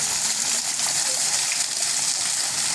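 A waterfall in a forest pours down in a steady, close rushing wash of water, continuous and fairly loud throughout.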